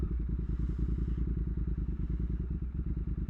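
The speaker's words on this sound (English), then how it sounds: "Yeah, it idles good. Throttle response is" A rebuilt 2022 Triumph Speed Twin motorcycle engine idling close by, a steady, even low rumble with a fast pulsing beat and no voices over it.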